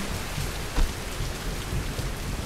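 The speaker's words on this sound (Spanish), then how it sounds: "despacio, que está lloviendo mucho" Heavy rain pours steadily in the Tomb Raider Definitive Edition game, a dense, constant hiss of downpour with a low rumble beneath and no voices.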